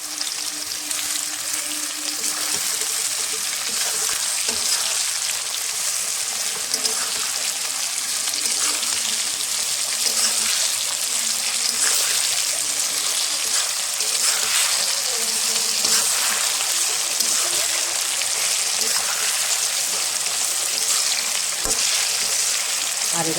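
Potatoes frying in oil in a pot in a home kitchen, with a continuous close sizzle and occasional stirring scrapes throughout.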